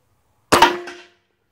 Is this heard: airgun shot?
yes